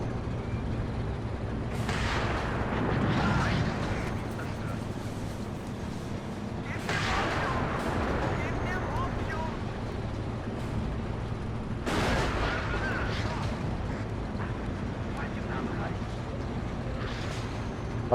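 Artillery fire in the Cold War real-time strategy game Warno, with several heavy booming blasts and rumbling impacts arriving every few seconds over a continuous low battlefield din, no talking.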